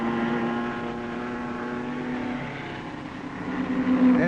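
Aston Martin and Maserati racing cars run in the 1955 Le Mans 24-hour race, producing a sustained, moderately distant engine drone that holds steady and swells slightly toward the end, with no voices.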